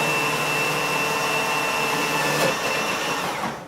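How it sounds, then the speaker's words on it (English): Food processor grinding potatoes, a loud steady motor whir with a constant buzzing drone that holds for a few seconds and then begins winding down at the end. "We have a food processor."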